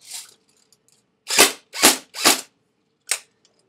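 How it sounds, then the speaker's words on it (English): A G&G G4A5 airsoft gun fires single semi-auto shots in a rate-of-fire test: five sharp, close pops, one at the start, three in quick succession, then a final one, with near-silence between. "I'll give you a little bit of rate of fire test. We'll do semi."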